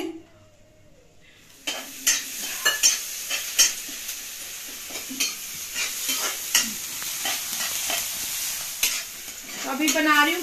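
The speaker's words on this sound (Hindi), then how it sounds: "अभी प्याज डाल दिया मसाला भून के" Onion and spices frying in a pan for pav bhaji, a steady close sizzle broken by repeated scraping and stirring clinks of a spoon against the pot, with no talking.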